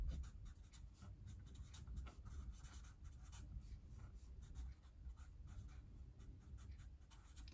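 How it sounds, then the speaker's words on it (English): A pen scratches steadily across paper in quick, close strokes, faint and continuous, with no talk. "I'm writing down the title."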